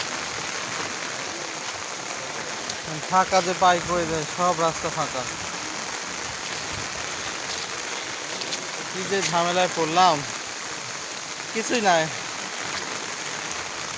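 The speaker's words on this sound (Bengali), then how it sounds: "বৃষ্টি আসছে" Steady rain hissing on a surface throughout, with someone talking over it in a few short bursts.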